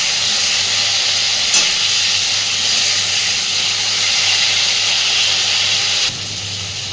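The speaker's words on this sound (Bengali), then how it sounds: "জাস্ট হালকা একটু বেগুনটাকে ভেজে নেব।" Eggplant frying in oil, giving a loud, continuous hiss and sizzle that runs steady throughout and drops slightly near the end.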